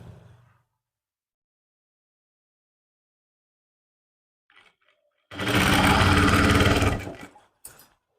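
An electric sewing machine stitches a suit lining in one loud, steady run of about a second and a half, close up, followed by a brief final burst after a near-silent stretch.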